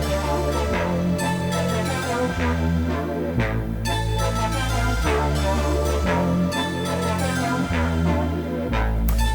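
Hip-hop beat with a flute melody on top, over a heavy, punchy low end and rhythmic drums, loud and continuous with no talking.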